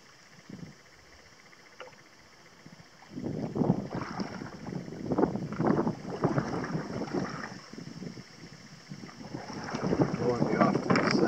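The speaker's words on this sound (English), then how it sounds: "Got a pretty good wind coming from the rear here." Wind gusting over a small boat on Clear Lake, a steady rushing roar with broadband buffeting that swells from a quiet start into sustained, fairly loud bursts, with faint insect-like chirps underneath.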